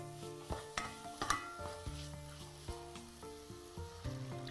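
Mushroom soup being gently stirred in a pot after water and milk are added, giving soft scraping and liquid sloshing strokes with a light sizzle, close and steady with no talking.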